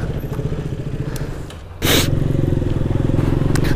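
A KTM Duke 200 motorcycle engine running nearby, idling with a steady rumble before a sudden louder burst and continued throbbing engine note.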